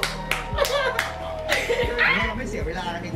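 Scattered hand claps greet a new contestant on a lively Thai reaction show, sharp and uneven, mixed with chuckles and laughter as voices talk over them.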